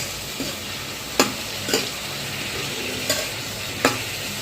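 A spoon stirs sama millet khichdi in a pot over a soft, steady simmering hiss, with about four distinct scraping clinks against the pot spaced irregularly and nobody talking.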